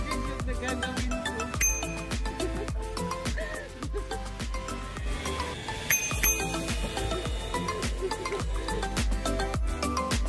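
A subscribe-button bell sound effect dings amid loud, busy rhythmic background music that plays throughout.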